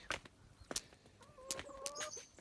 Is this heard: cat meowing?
no